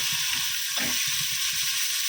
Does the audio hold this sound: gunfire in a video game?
no